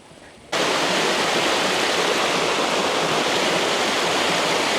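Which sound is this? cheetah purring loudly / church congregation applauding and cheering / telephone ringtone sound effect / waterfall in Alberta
waterfall in Alberta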